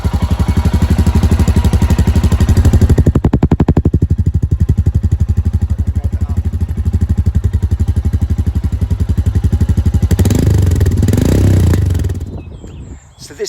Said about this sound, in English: Instantly burst into life. It's quite quiet. Let's have a listen to the exhaust.